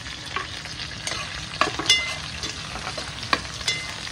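Sliced white onion dropped into hot oil already holding ginger, garlic, chilli and curry leaves: a close crackling sizzle with scattered pops and spatula scrapes, no voices.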